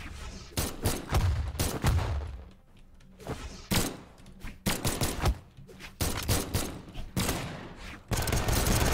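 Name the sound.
gunfire from guns in Brawlhalla video game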